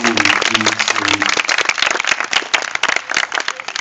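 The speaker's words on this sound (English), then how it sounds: "Send them down deeper with applause" Audience applause at a hypnosis stage show at a Georgia Renaissance Festival, steady crowded clapping that fills the whole stretch, with a voice speaking over it at the start.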